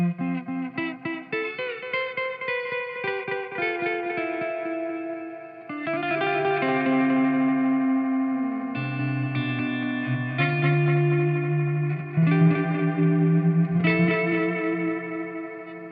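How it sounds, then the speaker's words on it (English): Guitar played through a Dreadbox Nostalgia three-stage delay module, clean picked notes ringing out with soft repeating echoes that trail and blend into a shimmering, reverberant wash. "Let's find a nice, pretty delay sound."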